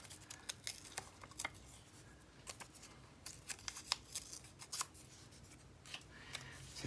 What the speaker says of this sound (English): If I just tear it along there.